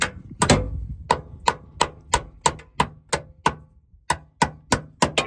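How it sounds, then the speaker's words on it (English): Hammer blows folding rusty sheet metal in beside a brake caliper on a cheap, rusty BMW E46 with a turbo S52 engine; a steady series of about fifteen sharp, close metallic strikes at an even rhythm, with no talk. "get the hammer, of course, and we'll fold it in without smashing my hands against the brake caliper"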